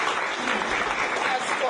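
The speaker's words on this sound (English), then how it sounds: "Let's give Tristan a round of applause." Dense applause fills a school graduation ceremony as the audience claps for the top student, a continuous sound of many hands that drowns out the talk behind it.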